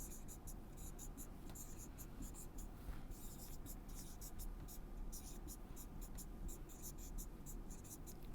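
Numbers being handwritten during a public key cryptography lesson, heard as faint, quick scratchy strokes in short bursts over a steady low background hiss.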